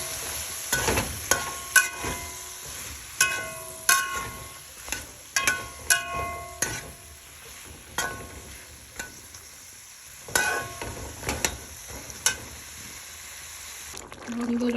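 Beans tossed into cooked-down spice masala in a pan for a koi fish and potato curry, stirred in repeated scraping strokes over a soft sizzle, with short metallic knocks between strokes.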